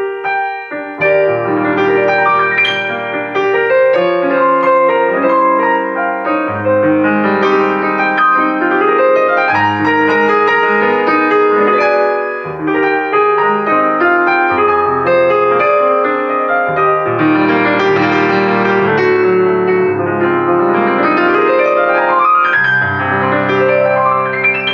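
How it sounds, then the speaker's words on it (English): A Kawai CA701 digital piano playing one of its piano voices, a loud, sustained passage of overlapping chords and melodic runs that rings continuously for nearly 25 seconds, with no talk. "if I go back to one of the piano sounds"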